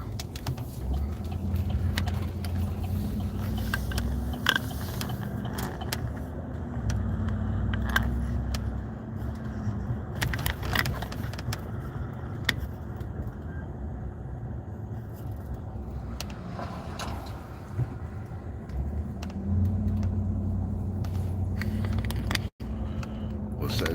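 Pickup truck rumbling along a rough road, a steady low engine drone with occasional clunks and rattles from the cab, heard from inside with people talking over it.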